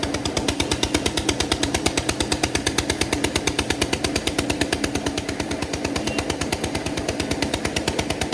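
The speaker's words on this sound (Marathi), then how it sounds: "हे बघा लादीच्या लादी अख्खी कटिंग होते बघा मशीनमध्ये" A loud ice-cutting machine at a fish market dock saws through a whole ice block, rattling in a fast, even pulse throughout, harsh cutting chatter with a grinding hum underneath and no talking.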